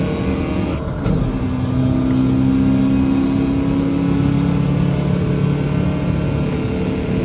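A car engine in Gran Turismo 7 with a Herbie livery drones steadily and loudly at speed, a sustained mid-pitched hum with slight rises in pitch throughout, no voices over it.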